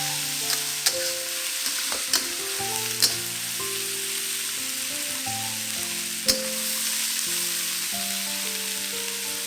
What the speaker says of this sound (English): put your chicken back into the wok.